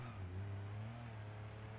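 A diesel kei truck's engine drones in a steady, low rev while drifting, faint and even throughout with no voices.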